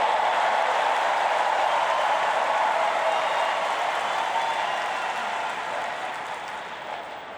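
Spectators at a 2016 US Open fourth-round women's tennis match fill the stadium with sustained, broad applause. The clapping and crowd noise are loud at first and fade gradually toward the end.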